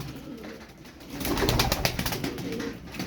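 Pigeons in a coop, a tumbler breed with crested heads, give soft overlapping coos and wing rustles close by, growing fuller midway and holding steady to the end.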